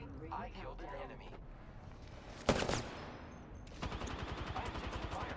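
Gunfire in the video game Apex Legends sounds as a sharp burst of shots mid-way, followed by rapid automatic fire, mixed with voices talking and game chatter.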